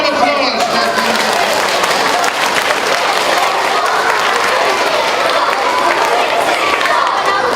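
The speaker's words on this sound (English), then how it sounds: "You got a nice round of applause, Jackie." A school audience applauds a teacher at a police officer's presentation, a loud, dense, steady round of clapping that lasts throughout.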